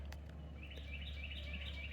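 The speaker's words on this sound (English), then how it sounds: "You hear the birds." Faint small bird chirps repeat in short bursts over a low steady rumble and water murmur beside the Ichetucknee River, distant and soft with no talk.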